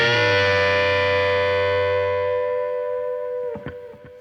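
A distorted electric guitar rings out a long bent note in a classic rock lick, then gives a few short choppy muted hits at the end, loud and close.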